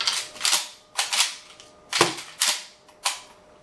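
A shotgun dry-fired at a spot on a wall makes six sharp metallic snaps, spaced about half a second apart and each decaying quickly. They are close and fairly loud, with no voices.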